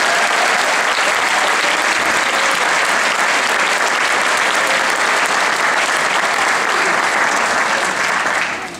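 Loud, sustained applause from a school audience of students and guests honoring the marching band staff, a thick unbroken roar of clapping that holds steady and begins to fade at the very end.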